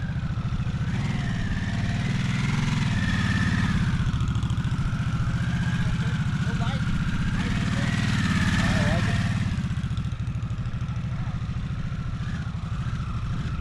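A Harley-Davidson Nightster Special motorcycle engine runs steadily close by, a constant low rumbling drone with slight swells in pitch and a strong throb near the middle, while a voice talks over it.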